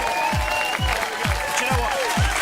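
Studio audience on a live breakfast TV show applauding and cheering, a bright sustained wash of clapping behind a repeated low thumping beat and musical tones, with no clear talk over it.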